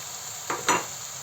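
Chickpeas are tipped into a pan of sautéed onions and tomato paste, giving two quick scraping, sizzling stirs in a row over a quiet hiss of frying.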